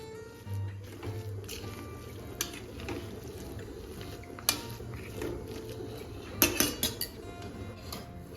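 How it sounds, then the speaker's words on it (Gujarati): A spoon stirs and scrapes khichdo, a traditional multi-grain porridge, in a pot, giving soft clinks and metallic taps against the rim, with a cluster of sharper clinks near the end over a low background hum. "અને હવે પાછું આપણે ચમચીની મદદથી આ રીતે મિક્સ કરી લઈશું"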